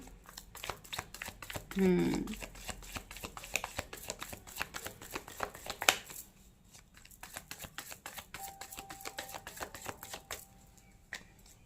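Tarot cards being shuffled and drawn by hand, with soft repeated riffling and flicking clicks throughout, fairly close, under a quiet background and a brief voice near the start.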